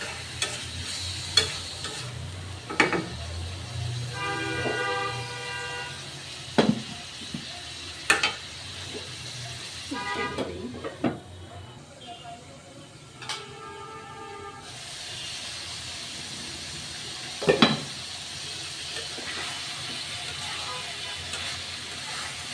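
Broccoli sizzling in a hot frying pan with a steady hiss, broken by scraping and clacking as a spatula stirs it at irregular intervals, close up with little talk.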